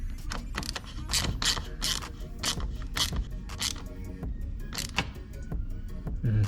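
Quick metallic ratcheting clicks while a nut on the air intake of a 2020 Honda Accord is tightened, coming in uneven bursts of short clicks, close up and moderately loud over faint background noise.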